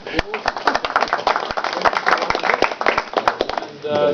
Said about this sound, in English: we'll give you now traditional applause